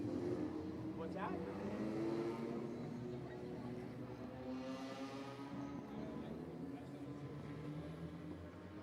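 A Ford Mustang pace car runs laps at Redwood Acres Raceway, its engine a continuous, moderately distant drone with a steady hum and a swell midway, while a voice talks over it.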